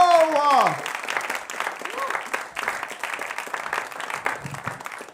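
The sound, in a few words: audience applause at a comedy show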